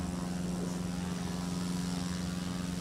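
A propeller airplane at a STOL practice event at Music City Executive Airport, its engine drone steady and loud with a strong low hum, filling the clip without speech.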